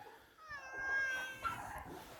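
Hungry ranch cats meowing for their morning feeding, one drawn-out rising and falling meow close by followed by a shorter cry, with faint rustling behind.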